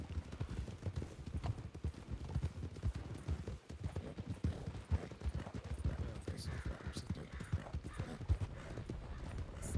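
Horse hooves clip-clop steadily through a RedM game scene of Old West riding, a continuous loud rhythmic trot with a short whinny, while someone talks over it.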